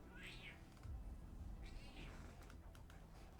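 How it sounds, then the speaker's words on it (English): A pet cat meows twice, soft and fairly close, over a low steady background hum with a little typing-like clatter. "See if Kitty would like to say hi to you, because he's a stream bombing kitty cat"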